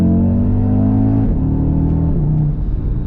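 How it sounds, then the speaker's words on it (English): A 2020 Audi RSQ3 Sportback five-cylinder engine revs up hard, its pitch climbing and then dropping as gears shift, loud and close with a raspy tone. "That 5-cylinder sound though,"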